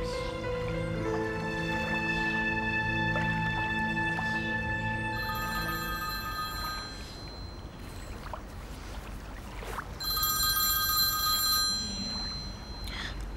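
A telephone rings with bursts of steady tonal chimes, fairly soft and mixed with a low background hum. The ringing pauses and then sounds again near the end.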